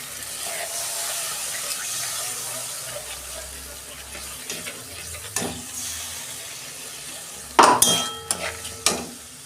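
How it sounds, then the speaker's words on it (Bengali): Water from a mixer jar is poured into a frying pan during a bitter gourd recipe. A quiet hiss of cooking and stirring turns into several sharp, close sizzling bursts near the end. "এই যে মিক্সি দেওয়ার বাটির জলটা দিয়ে দিচ্ছি।"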